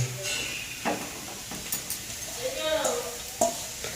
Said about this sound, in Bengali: বড় মা গাজরের হালুয়া করছে, এই তো গ্রেট করা হালুয়া দিয়ে দিচ্ছে, মানে গাজর দিয়ে দিচ্ছে